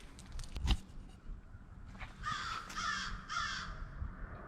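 Several crows caw in short bursts at a moderate distance, the harsh calls coming in clusters over faint outdoor background and a few rustling handling noises.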